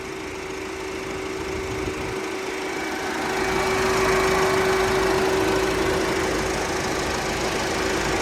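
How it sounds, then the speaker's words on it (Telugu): A 2016 Ford EcoSport Titanium 1.5L TDCi diesel engine idles smoothly and steadily, a close, continuous hum with a faint even clatter that swells slightly in loudness partway through. "ఎలాంటి సౌండ్ లేదు, ఇంజన్ స్మూత్ ఉంది."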